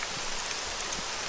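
Steady rain falls in the video game Arma 3, a continuous broadband hiss of drops on surfaces, fairly loud and unbroken throughout, with no voices.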